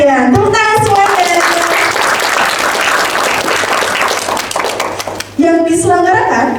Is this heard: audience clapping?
yes